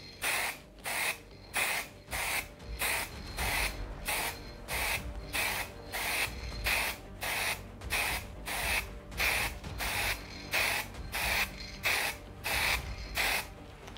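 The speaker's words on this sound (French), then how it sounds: "cette peinture là est très fine, elle est pulvérisée à plus grande vitesse qu'habituellement" Short repeated bursts of spray paint from an aerosol can onto 3D-printed armour pieces, about twenty hisses in a steady rhythm with brief gaps between them, loud and close with no talking.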